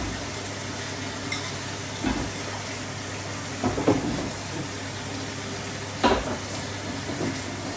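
Potato pieces drop with soft clunks into a simmering tamarind dried-fish curry (karuvattu kuzhambu) as it bubbles and sizzles steadily in the pot.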